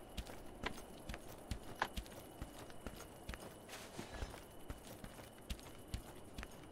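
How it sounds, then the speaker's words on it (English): Loud footsteps in DungeonBorne thud in a steady, fairly quick rhythm, each step a sharp knock close by, repeating evenly through the stretch with faint background noise and no talk. "such a loud footsteps"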